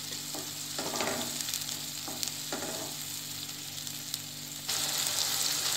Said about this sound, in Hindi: मसाले को ब्राउन होने तक हमको इसको फ्राई करना है।